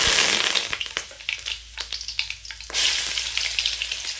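Mustard seeds and curry leaves fry in hot oil in a kadai, with a loud burst of sizzling that settles into crackling and popping, then surges again into bright, dense sizzle.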